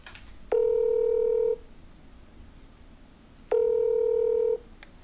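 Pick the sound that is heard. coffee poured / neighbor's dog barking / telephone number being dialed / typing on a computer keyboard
telephone number being dialed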